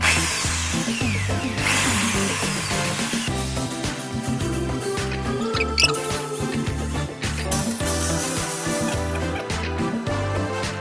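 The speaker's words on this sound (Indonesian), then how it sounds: "Dan berikut ini proses pengeboran dan pemasangan braket yang saya lakukan." Power drill boring 5 mm holes to mount a roller blind bracket, whining in repeated bursts with starts and stops and a steady motor hum, loud and close, with no talking.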